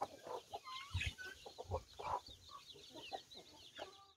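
Chickens clucking on a farm, a steady stream of short clucks and calls from several birds nearby, fairly faint overall, without talk.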